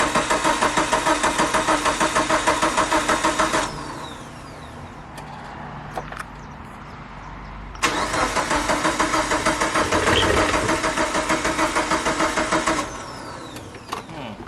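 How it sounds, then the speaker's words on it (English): A Mitsubishi Evo 8, left neglected for eight years, cranks over on its first start attempt with rapid rhythmic starter chugging in two long bursts separated by a short pause, close and loud, without firing up. "Fuel pump is priming, car is cranking over."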